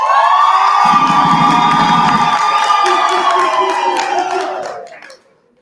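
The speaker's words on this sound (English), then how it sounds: "When I count to 3, I want to hear a loud round of applause and good energy." A workshop audience erupts in loud cheering, whooping and clapping, with shouted voices over the applause, then it fades out sharply after about five seconds.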